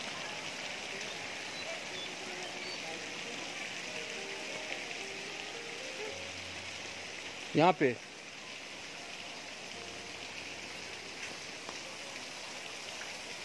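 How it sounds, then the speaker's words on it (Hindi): Artificial rain fountain called Saavan Bhado at Saheliyon ki Bari garden in Udaipur, water jets from Fateh Sagar lake spraying up and pattering onto tree leaves; a steady, close rain-like hiss throughout, with brief speech partway through. "पानी जमीन से निकल रहा है, फतेहसागर झील का, पेड़ों के पत्तों पर टकरा रहा है।"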